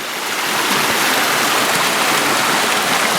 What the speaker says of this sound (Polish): pozwoliłem sobie zejść jeszcze w jedno miejsce nad potokiem kamienickim